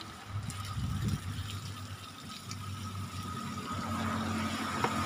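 Running water gushes steadily during the planting of a banyan tree outdoors, a continuous wash of flowing water with a low hum beneath it and no speech.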